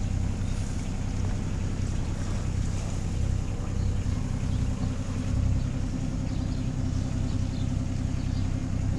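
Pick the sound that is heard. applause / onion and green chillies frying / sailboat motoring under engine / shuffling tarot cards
sailboat motoring under engine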